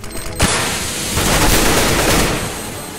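Gunfire in Counter-Strike: Global Offensive: a sharp single shot followed by a dense, loud burst of rapid automatic fire that sustains for over a second before tailing off.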